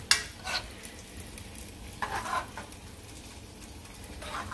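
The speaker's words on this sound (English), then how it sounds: "then time for the tomato to slide right in, and then you're going to mix it" Spaghetti and tomato being stirred together in a hot, sizzling pan, with steady frying hiss and a few sharper scraping stirs, close up and with no talking.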